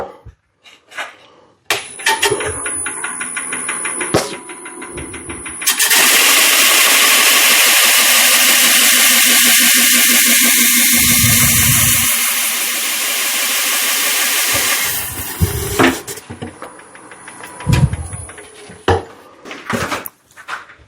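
A wood lathe spins a hollow form while its end is sanded flat, giving a loud, steady broadband whir and abrasive hiss for about ten seconds, framed by quieter tool clatter, knocks and handling sounds before and after.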